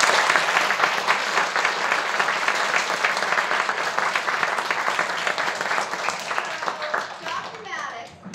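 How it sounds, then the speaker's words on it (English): Sustained applause fills a school gathering at Tilton School in Haverhill, Massachusetts, as a crowd claps steadily for a guest, with children's voices mixed in and the clapping thinning slightly toward the end. "Can we give him a big round of applause?"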